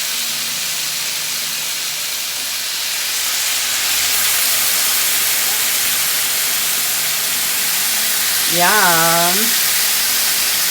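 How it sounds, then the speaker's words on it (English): Chicken shish kebabs sizzle on a grill in a constant loud hiss that swells partway through; a voice briefly speaks near the end. "Oh, nice sizzle."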